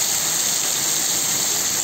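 Potatoes dropped into a hot pan while cooking soy chunks, giving a steady loud hissing sizzle that holds evenly throughout.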